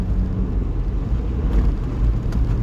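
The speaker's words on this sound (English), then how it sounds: "Little Mini coming in there." A small Mini hatchback drives in close by, its engine a steady low rumble with a broad wash of road and wind noise that holds level and fairly loud throughout, with no voices.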